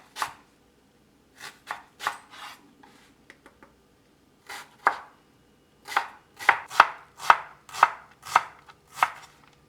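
A knife chops through leek on a cutting board, its sharp cuts coming in uneven bursts: a few spaced strokes first, then a quicker, steady run of crisp chops close up, with no voices.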